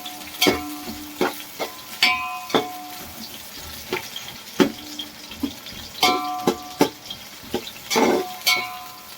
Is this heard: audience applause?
no